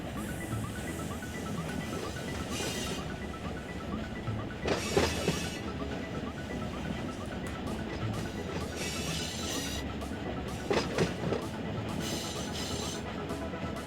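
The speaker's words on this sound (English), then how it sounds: "think we're going to have another train passing us here pretty soon." Freight train rolling past in the Run8 Train Simulator game, a steady continuous rumble of railcars with rhythmic clatter bursts and brief squeals, loud and close throughout.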